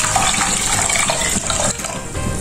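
Water pours into a saucepan while milk rice (blue kiribath) is being prepared, a continuous close splashing and gushing stream that runs steadily for a couple of seconds with no talking.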